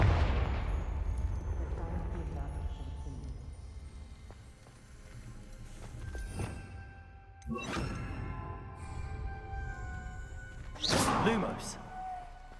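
A Confringo fire spell blast in Hogwarts Legacy: a loud boom that decays into a rumbling tail, followed by a few sharper, cracking impacts and bangs.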